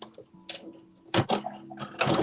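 Home sewing machine stitching a garment sleeve closed at a 5/8-inch seam, running in short uneven bursts with mechanical ticking and a steady whirring hum, no talk.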